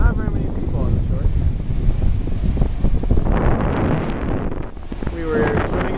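Ocean waves and wind at Huntington Beach: steady, loud wind buffeting the microphone over a continuous rushing surf.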